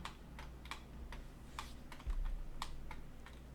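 Someone types on a computer keyboard while setting up a drawing sheet in software, a run of light close key clicks and a firmer Enter press over a low background hum, with no speech.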